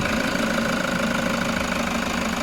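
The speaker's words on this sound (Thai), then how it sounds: "เครื่องสี่สูบ 136แรงม้าน้ำมันเชื้อเพลิงดีเซลนะครับเครื่องแห้งๆเลยนะคุณผู้ชมดูได้เลยนี่ เสียงเพ้าะๆนะ" Toyota Commuter 3.0 D4D four-cylinder 136 hp diesel van engine with a manual gearbox, a 2017 model, idling steadily with a dense, even clatter and faint knocking rhythm, close and continuous with no talk.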